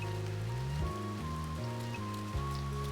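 Steady cold rain falls in the visual novel game One, a soft continuous hiss running beneath sustained, chord-shifting background music throughout.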